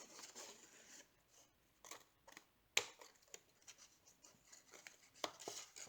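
Scissors cut paper for a 6x6 mini album in very faint, close, irregular snips and rustles, with a couple of sharper clicks.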